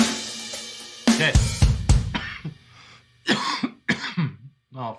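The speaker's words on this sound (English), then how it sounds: "forgive me for coughing so much." Several harsh, loud coughs come in bursts close to the microphone, separated by short pauses, with some throat clearing between them.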